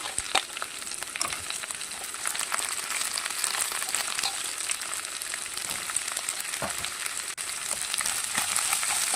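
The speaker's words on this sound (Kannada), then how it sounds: "ಇದನ್ನೊಂದು ಸ್ವಲ್ಪ ಫ್ರೈ ಮಾಡ್ಕೊಳ್ತಾ ಇದ್ದೀನಿ ನಾನು" Crab fries in a pan for a coastal Udupi-Mangalore style curry, a dense, continuous hiss and crackle with scattered pops and occasional stirring scrapes, close and steady throughout.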